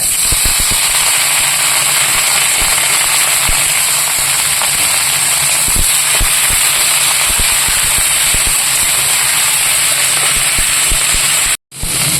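Loud, continuous sizzling of leafy greens frying in hot oil with garlic, with steady hiss and scattered crackles and pops throughout.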